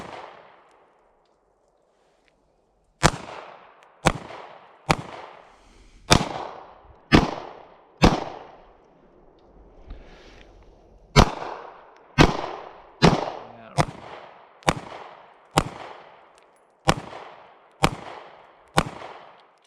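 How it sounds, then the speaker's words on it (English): Pistol shots from a Taurus G2C fired outdoors at a range, about fourteen sharp, loud reports with a pause after the first few, then a steady paced string, each crack followed by a short echoing decay; no talking. "Let's take a few shots real quick with it here."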